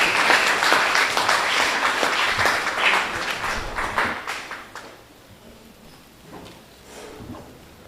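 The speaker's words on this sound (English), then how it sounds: "Please make them feel appreciated by giving them a warm round of applause." A school spelling bee audience applauds the officials, a crowd's dense clapping that is fairly loud at first, thins after a few seconds and trails off into scattered claps.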